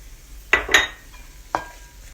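Peppers tipped into a saç tava pan where onions are frying in butter, suet and tail fat: two quick metallic clatters close together, a third clink a moment later, over a faint steady sizzle.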